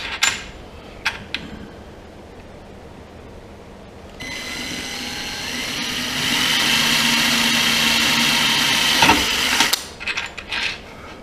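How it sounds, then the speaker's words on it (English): A few sharp metallic taps, then a power drill spins up and grinds steadily through metal for several seconds, growing louder before stopping with a clatter. "Now this one we'll only need to drill 3mm so that we can tap it."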